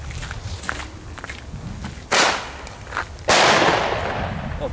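Dutch fireworks go off near water as two sharp, loud bangs about a second apart, each trailing into a brief crackling decay over faint background noise.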